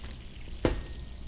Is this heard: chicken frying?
yes